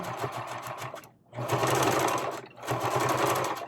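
Sewing machine back-stitching while closing a hole in an ironing board cover: close, loud bursts of rapid needle chatter, briefly pausing twice as the stitch direction reverses.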